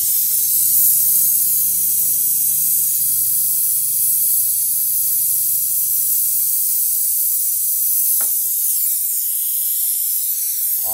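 Refrigerant and oil blowing out of a freezer's cooling system, a loud steady hissing spray that carries on unbroken, with a couple of faint clicks near the end.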